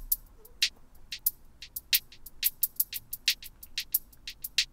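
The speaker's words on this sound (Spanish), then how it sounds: "Vamos a meterle delay." An OP-Z synthesizer plays a steady pattern of sharp, bright ticking hits with a delay effect. Each hit echoes in quick repeats over a quiet hiss, with no voices.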